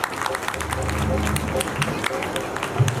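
A crowd gathered at a temple claps together in a dense, steady patter, joined by a low hum of voices and some speech throughout.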